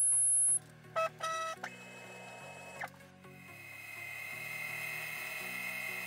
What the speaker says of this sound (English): The output G code now had to prove its suitability on the milling machine.